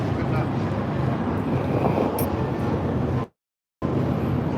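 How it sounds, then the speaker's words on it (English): Helicopters passing overhead in Hong Kong give a constant dense rumble mixed with wind noise on the microphone, broken by a brief total dropout near the end. "We can hear the helicopters flying overhead."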